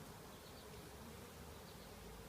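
Steady, dense buzzing of many bees during an open hive inspection, continuous and fairly close, with no voices.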